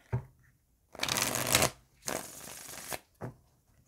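Tarot cards being shuffled up close: a brief riffle, then two long, loud shuffling bursts and a final short flick, with quiet gaps between them.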